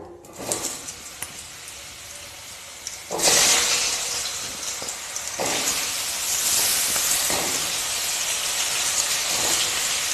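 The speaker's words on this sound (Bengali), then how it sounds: "আলুগুলোকে আমি লাল লাল করে ভেজে নেব" Cut potatoes sizzle in hot oil seasoned with salt and turmeric, a soft hiss that surges loudly in several bursts as they hit and settle, then keeps up a steady frying crackle.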